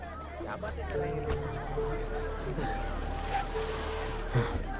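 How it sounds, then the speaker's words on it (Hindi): A crowd gathered at a scene in a Hindi-dubbed Malayalam film murmurs and chatters in a steady, dense babble, with a few louder voices and a brief gasp-like burst rising out of the hubbub. "ऐसी भीड़ लगी हुई है यहाँ पे"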